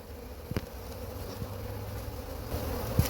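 Honeybees buzzing around a freshly opened hive during a litchi honey flow, a steady close drone with a few louder passes near the microphone.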